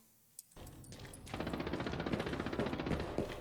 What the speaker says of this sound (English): I hear an HK shooting.